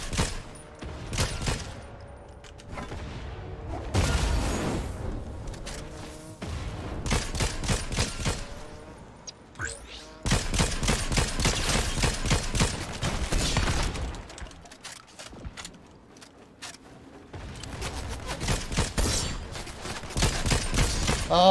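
Repeated bursts of automatic gunfire from a video game gun in a shooter match, loud rapid volleys broken by short pauses, with sporadic voices in the background.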